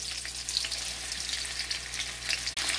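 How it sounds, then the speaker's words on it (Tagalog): Onion sautéing in a little oil for a simple shrimp recipe, a steady bright sizzle with crackling pops throughout and a brief break near the end. "Lalagay na po tayo ng konting oil at igigisa ko ang sibuyas."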